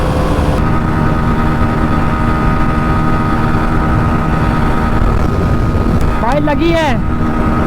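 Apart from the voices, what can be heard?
Hero Xtreme 125R and Pulsar NS125 motorcycles racing, engine on rev limiter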